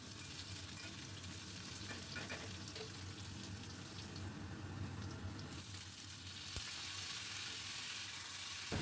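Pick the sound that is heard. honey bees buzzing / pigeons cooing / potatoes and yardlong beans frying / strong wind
potatoes and yardlong beans frying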